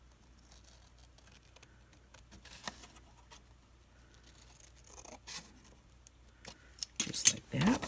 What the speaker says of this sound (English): now between the side and the top is where we're cutting off this little tiny triangle